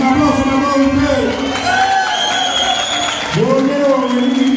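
Party guests at a family Christmas gathering break into steady applause and cheering, close and lively, with voices calling out over the clapping throughout.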